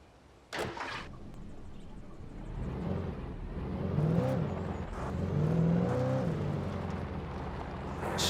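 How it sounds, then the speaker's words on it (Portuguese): A muscle car engine in the Alan Wake game revs up twice with rising whining tones over a steady engine rumble, preceded by a sharp thump, fairly close and without talk. "Eu troco a minha caminhonetezinha por esse muscle car."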